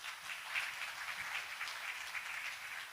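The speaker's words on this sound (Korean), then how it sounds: "단상에 올라가시도록 다 같이 박수로 환영해 주시겠습니다." Seminar audience applauding to welcome a National Assembly member to the podium, a fairly quiet, steady patter of many hands clapping together for the full stretch.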